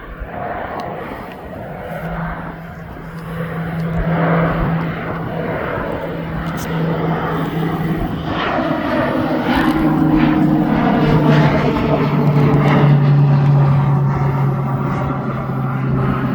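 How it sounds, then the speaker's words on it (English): A Pilatus PC-12 turboprop departs East Midlands Airport, its engine drone swelling steadily over sixteen seconds from moderate to loud, heard at a distance with a constant tonal hum and no talking. "So I'll come down for this PC-12. There goes the PC-12."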